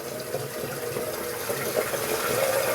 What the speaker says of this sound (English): A couple drips of water.